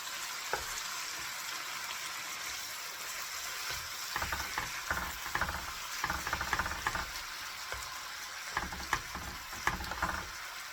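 Beef frying with onions in a pan, a steady sizzle with intermittent scraping and clattering as the meat is stirred, close up.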